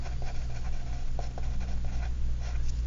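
A pen scratching out handwriting while a calculus problem is worked, soft intermittent strokes over a steady hum of background noise, with no talking.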